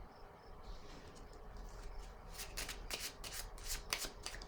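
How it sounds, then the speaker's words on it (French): Tarot cards shuffled and laid down during a reading, soft papery riffling that builds into a series of crisp flicks and taps, close and quiet with no talk. "Je vais déposer une autre carte ici."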